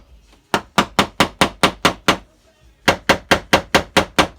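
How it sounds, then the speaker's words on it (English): Heavy hammers strike metal in a mechanic's workshop: a steady run of about seven loud, close blows, a brief pause, then another even series of blows, with no talking. "Get the hammers out."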